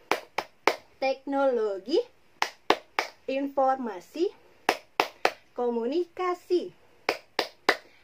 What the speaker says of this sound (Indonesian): Tepuk tangan TIK.